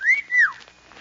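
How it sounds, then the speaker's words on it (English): A person whistles two quick rising-and-falling wolf-whistle-style notes, clear and close, from an old 1943 radio comedy broadcast. "you just whistle like this"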